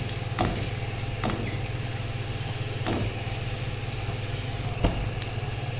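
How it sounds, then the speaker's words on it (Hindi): Chopped onions sautéing in a pan for chicken bread, a steady close sizzle with occasional light clicks of stirring, no one talking. "इसको हमने सिर्फ सौते करना है, यानी कि इसका कलर सिर्फ चेंज करना है"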